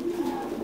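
Thai Titan pigeons coo in farm cages in Dak Lak, a soft, low, continuous murmur of cooing close by for a brief moment, with no talk.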